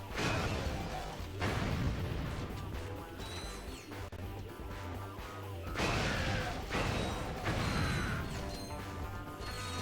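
Shock blaster shots in Ratchet and Clank 3: Up Your Arsenal, heavy booming bursts repeating every couple of seconds over constant battle noise and mechanical hum.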